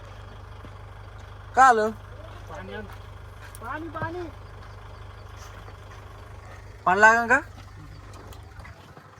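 A farm tractor's engine runs throughout as a steady low drone, near and even, while people talk in short bursts over it.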